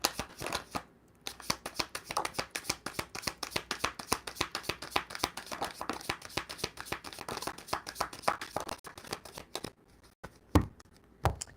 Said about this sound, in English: These cards shuffle so smoothly.